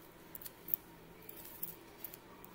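Scissors snip through hair in a few faint, quick clicks close by, quiet against a soft background hiss.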